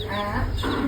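Chickens at a poultry farm give short close clucks and throaty calls over a low steady background hum, all packed into under a second.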